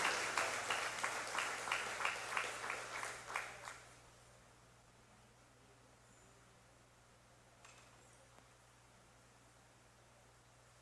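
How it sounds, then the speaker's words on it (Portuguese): A church congregation claps in a lively, rhythmic burst for a few seconds before fading into near silence in the sanctuary. "Pode aplaudir o Senhor."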